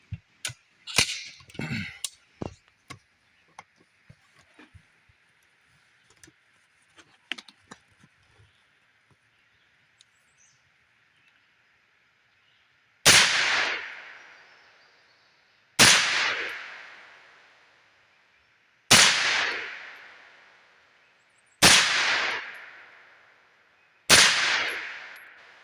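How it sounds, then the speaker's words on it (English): A rifle fires Mead frangible 9mm rounds at an outdoor range: five loud, sharp shots spaced a few seconds apart, each with a decaying echo, after some quieter handling clicks. "I think there's 10 rounds in the rifle now. Let's get our ears on and send these"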